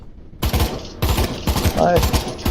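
Rapid automatic gunfire bursts in the Pavlov VR shooter game, several loud close-range volleys separated by short pauses, with no speech over them.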